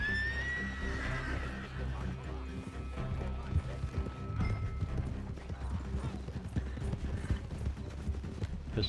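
A horse in the video game Red Dead Redemption 2 clip-clops steadily and lets out a neigh near the start, amid game music and ambience, with a voice talking over the hoofbeats.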